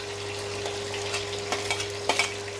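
Onion, ginger, garlic and green chillies fry in hot oil with cumin in a pan, giving a steady close sizzle broken by a few clicks and scrapes of stirring, with no talking.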